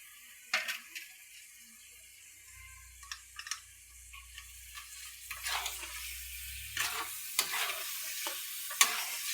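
Mutton sizzles in a pan while a spoon scrapes and stirs in irregular clinking bursts, with a low hum underneath and no talk.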